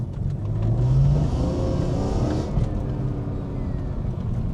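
BMW E46 M3 fitted with Öhlins Road & Track suspension driving around town, the engine droning and rising briefly as it accelerates, then settling into a steady cabin hum with no talk.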